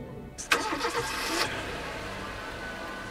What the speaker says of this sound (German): So, das Auto läuft